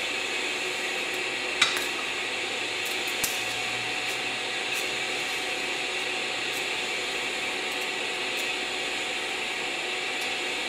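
A DC TIG welder running a scratch-started arc while the torch cup is walked along the joint, giving a steady, even buzzing hiss for the whole stretch, broken by one or two sharp crackles near the start, with no talking.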